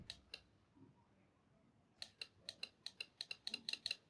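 Car relay clicking as it is touched to battery terminals: a pair of sharp clicks, then a rapid run of small close-up clicks, quiet and without talk.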